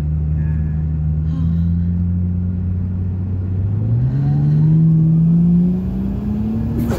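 A boosted 600+ horsepower Ford G6E Barra turbo engine running at 20 psi, pulling hard through a rising rev with a loud mid-range drone that climbs in pitch and then eases, with people talking inside the car.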